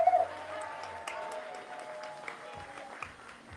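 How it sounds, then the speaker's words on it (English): A memorial celebration of life at Tracks Nightclub, with a crowd applauding its entertainers. The clapping is modest and somewhat distant and fades into a low murmur of talk and room noise. "Can you all please make a round of applause for all of your entertainers"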